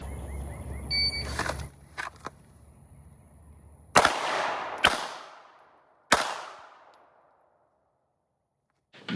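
Handgun drawn from a holster and fired three times at 15 yards on a range, three loud separate cracks with ringing decay, preceded by faint clicks and handling.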